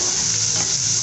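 Onions fry in a pan until golden for a Sri Lankan village meal, a short, steady, loud sizzle with no voices.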